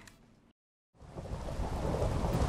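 Rain and thunder in the video game Minecraft: after a brief silent gap, a loud, dense wash of rain swells in with low rumbling thunder underneath, steady and close with no voices.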